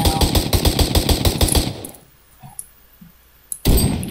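Rapid automatic gunfire in modded Minecraft, a loud fast burst of shots that stops for about two seconds, then resumes abruptly.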